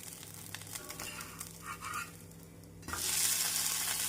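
Millet rice dosa frying in oil on a hot pan, a steady close sizzle with soft crackling that swells louder toward the end.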